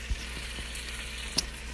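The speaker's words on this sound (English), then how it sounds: "It's sizzling a lot, even though I have it on low." A soft, steady sizzle of white wine sauce frying in a pan on low heat, with a couple of faint clicks and taps against the cookware. No one speaks.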